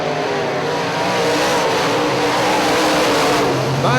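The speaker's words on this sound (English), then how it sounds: "Myron DeYoung sounds and looks like he's got a strong car tonight" UMP modified race cars roar around Hartford Speedway Park in Michigan during a 2005 heat race, a loud continuous engine drone with rising revs as the pack passes near, no voices audible.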